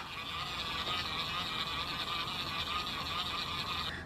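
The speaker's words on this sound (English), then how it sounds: "just pull this up and it will drain it for you" Drain mechanism of a mini makeup sponge washing machine being pulled up, a soft continuous mechanical ratcheting and whirring with faint clicks, close and quiet throughout, no talking.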